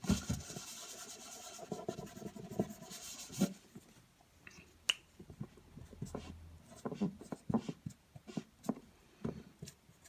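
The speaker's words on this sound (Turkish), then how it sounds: "Şöyle güzelce yazayım okursun." Marker or chalk writing letters on a board, with intermittent rubbing and scratching strokes in short bursts and pauses, fairly close and moderately quiet, no talk.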